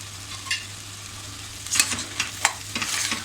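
Chopped tomato sautés in a pan with black-eyed beans and potato for a Malvani-style bhaji, a low sizzle under a steady hum, punctuated by several bright scraping stirs of the spoon toward the end.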